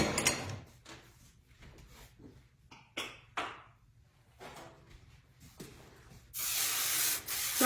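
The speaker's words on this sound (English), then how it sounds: "So I just spray my pan really good." Cooking spray from an aerosol can sprayed onto a casserole pan for a broccoli casserole: a couple of short faint hisses and light clatter early on, then one long loud close spray burst near the end.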